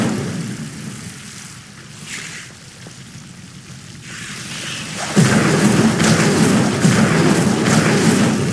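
An Incendio fire spell cast in Hogwarts Legacy in a dark herbology corridor: a low rumbling ambience gives way to a sudden loud whooshing burst of roaring flame that sustains to the end.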